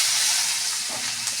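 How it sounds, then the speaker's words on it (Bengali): Onion frying in hot oil with cumin and bay leaves in a pan, a steady, even sizzling hiss held close throughout with no voices. "পেঁয়াজটা একটু ভাজা ভাজা করে নেব।"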